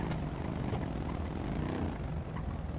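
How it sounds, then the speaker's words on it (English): A helicopter in GTA roleplay flies overhead with a steady rumbling rotor drone, moderately loud and continuous, with no talk over it. "That's a big chopper, bro."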